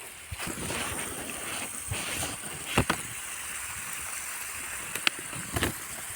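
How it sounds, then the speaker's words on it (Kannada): Steady hiss of water spraying and splashing from a drip irrigation pipe outdoors among areca palms, with a few soft taps and knocks over a constant wash of noise. "ನೀರು ಚುಂಬೋದು ಆ ಸೌಂಡು ಎಷ್ಟು ಚೆನ್ನಾಗಿ ಕೇಳಿಸ್ತಾ ಇದೆ"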